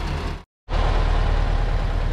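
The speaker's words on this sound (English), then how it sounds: "with this beautiful sound of the engine in the background, because real tourists arrived and they parked just in front" A tourist car parked just in front at a roadside stop near Penglipuran village in Bali gives off a close, steady, low engine rumble. A brief full cutout breaks the sound before it resumes.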